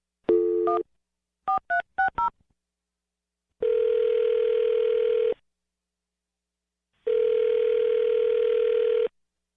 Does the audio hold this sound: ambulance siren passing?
no